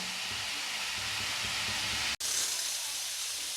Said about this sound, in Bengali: দুটো গোটা লঙ্কা এখানে দিয়ে দেবো এটাকে ভালো করে ভেজে